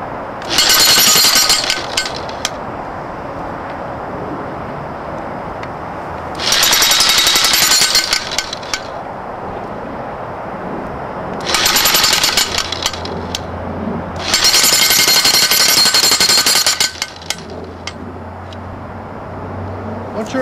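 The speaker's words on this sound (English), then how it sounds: "Moving it with the jackhammer so you're plumb." A jackhammer drives a fence post into the ground, pounding in four loud, sustained bursts of a few seconds each, separated by quieter pauses.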